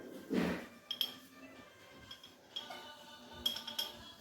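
A metal spoon clinking against a pot or dish while cooking and adding turmeric at home, several sharp, bright taps with one loud clink early, then scattered lighter clinks in a quiet kitchen.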